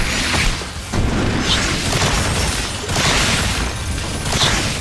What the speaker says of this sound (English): And I keep shooting the chandeliers.